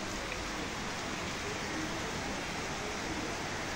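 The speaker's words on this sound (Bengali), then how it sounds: "বাইরে অঝরে বৃষ্টি হচ্ছে" Heavy rain pours outside a home verandah surrounded by dense greenery, a continuous hiss of falling drops that stays even and steady throughout, moderately loud with no voices over it.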